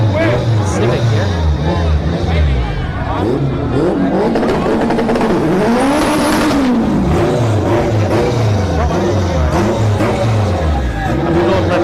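All-wheel drive Honda Civic at a no-prep drag race at Orlando Speed World, engines revving and accelerating loudly with rising and falling pitch sweeps, mixed with crowd noise and a commentator talking over it.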